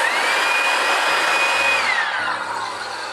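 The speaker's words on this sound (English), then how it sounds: "Let's use a leaf blower." A handheld leaf blower runs at close range with a loud, steady rushing whine that holds its pitch, then drops in tone and eases off toward the end.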